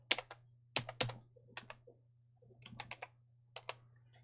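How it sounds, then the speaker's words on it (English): Quiet, close typing on a computer keyboard in short bursts of clicking keystrokes separated by pauses, with a faint steady hum underneath. "And we'll just type in G8F"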